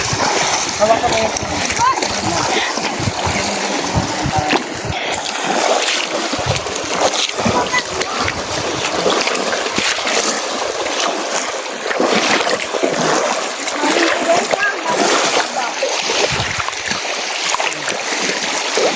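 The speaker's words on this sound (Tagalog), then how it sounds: "Gusto kasi ni Nico magligo sa ilog na yung medyo malalim." Water splashes repeatedly as people bathe in a deep river in the Philippine countryside, broadband sloshing continuing for the whole stretch with outdoor wind noise and people talking.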